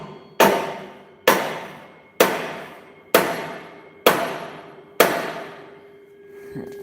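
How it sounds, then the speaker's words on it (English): A hammer strikes a stuck flywheel on an old Kohler welder-generator engine six times in a slow, even rhythm, each sharp metallic clang ringing out and fading before the next blow, loud and close. "I've whacked everywhere on this thing and it just still won't break loose."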